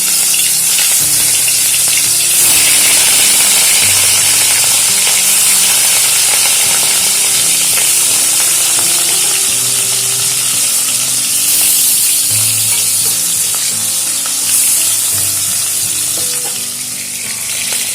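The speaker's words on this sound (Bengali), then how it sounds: "মাছগুলোকে লবণ মাখিয়ে রেখেছিলাম এবারে মাছগুলো ভেজে নেব" Salted rohu fish pieces fry in hot mustard oil in a kadai, a loud, continuous close-up sizzle with spitting and occasional stirring throughout; no voices.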